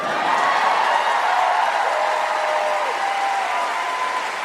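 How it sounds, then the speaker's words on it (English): Studio audience applauding at the end of a talk show, a dense, steady wash of clapping that holds at full level for several seconds before cutting off abruptly. "And then they clap again."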